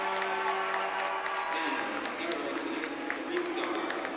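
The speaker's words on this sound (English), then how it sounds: "the home crowd gives a nice salute to the McGill Redmen" Home crowd at a university ice hockey game, McGill Redmen against the Nipissing Lakers, applauding and cheering in a broad continuous wash of clapping filling the arena, with a low announcer-like tone fading early.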